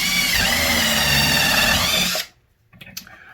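A power drill bores a beveled hole in a wooden bird house for a screw, running loud and steady for about two seconds before stopping abruptly, followed by a few faint handling knocks.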